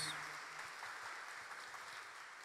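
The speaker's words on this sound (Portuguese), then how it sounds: "A todos uma salva de palmas" Faint clapping from a congregation at a Catholic Mass in Praia Grande, a continuous soft patter of many hands that holds steady for a couple of seconds.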